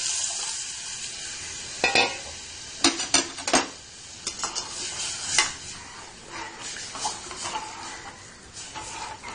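Yogurt is stirred in a hot pan for dahi papad curry, a steady sizzle under repeated scraping and clinking of a spoon against the pan.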